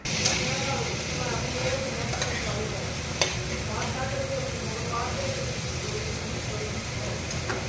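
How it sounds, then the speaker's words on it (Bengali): Vegetables are stirred in a pan of oil over a low flame, a steady sizzle with scraping and an occasional sharp clack, while a voice talks over it. "এখানে লো ফ্লেমে আপনারা এটা ভাজবেন এরপর আমরা ভেজিটেবলগুলো অ্যাড করে নিচ্ছি ভালো করে নাড়াচাড়া দিয়ে নিতে হবে"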